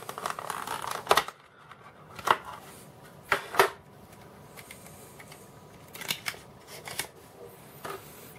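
A clear, flexible plastic iPhone 5s case being unwrapped from its protective film, with a few close, sharp crinkles and rustles separated by quiet pauses.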